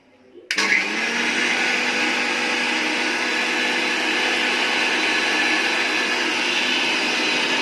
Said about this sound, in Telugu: ఓకే, నేను ఇప్పుడు మిక్సీకి పడుతున్నా చూడండి.